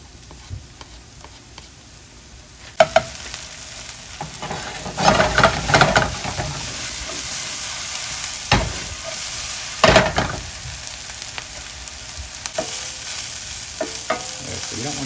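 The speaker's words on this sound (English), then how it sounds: "we're going to try and caramelize these onions, so it's going to take about 6 or 7 minutes for that" Onions caramelize in a frying pan with a continuous moderate sizzle, punctuated by clicks and bursts of louder scraping as they are stirred, alternating with calmer stretches of steady frying.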